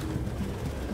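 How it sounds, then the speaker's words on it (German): Pigeons coo in the video game Detroit: Become Human, low soft rolling calls from a flock of birds in a dim indoor space, heard under a steady dense background murmur. "So viele Tauben überall."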